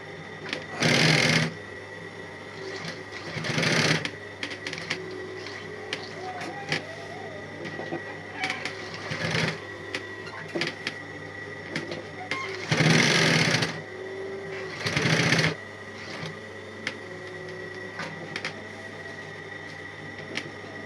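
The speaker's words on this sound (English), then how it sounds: "So I'm going to start sewing again." A sewing machine stitching a multi-zipper men's pouch runs in four short, loud whirring bursts separated by quieter handling sounds, close by.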